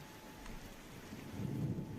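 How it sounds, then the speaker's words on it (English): Heavy rain pours down in a rainforest, a steady low hiss and rumble that swells louder toward the end, with no voices. "Rain heavily coming down."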